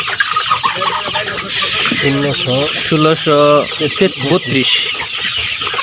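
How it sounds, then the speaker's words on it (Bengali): Chickens on a farm cluck and squawk loudly and repeatedly up close while being weighed, their calls overlapping with steady background noise and people talking. "আমরা দেখাবো আপনাদেরকে আমাদের মুরগির ওজনটা কত আসছে।"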